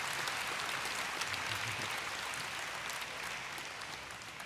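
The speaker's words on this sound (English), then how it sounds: "So give an applause for Ryan." Faint, steady applause from a convention audience greeting a Minecon panel speaker, a continuous patter of many hands that fades slightly at the close.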